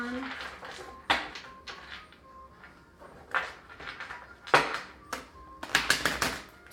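Tarot cards being shuffled, a run of crisp riffling bursts and papery slaps at close range, some quick clusters near the end, with a person talking between them.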